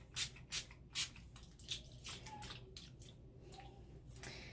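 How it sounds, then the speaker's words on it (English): Three quick, close spritzes from a bottle of Avon True Color Makeup Setting Spray open the clip, followed by softer sponge dabbing and rustling sounds. "Now I'm going to set my face with the Avon True Color Makeup Setting Spray. Just a couple spritzes"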